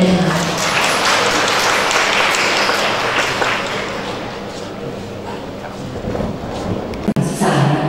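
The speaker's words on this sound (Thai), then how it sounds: "ขอเสียงปรบมือด้วยนะคะ" Applause from the audience at a provincial education office anti-corruption MOU signing in Surin, a dense wash of many hands clapping that gradually fades, with a voice speaking near the end.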